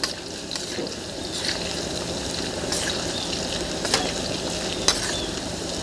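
Garlic fries in very hot oil with a steady, close crackling sizzle and a few scraping stirs from a utensil, heard alone.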